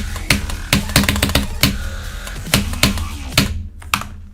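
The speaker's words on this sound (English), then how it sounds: "I didn't know Razer had a rapid trigger keyboard now." Keys clack on a Razer rapid trigger keyboard in quick, uneven bursts of close, crisp strikes with short pauses between, ending in a brief lull.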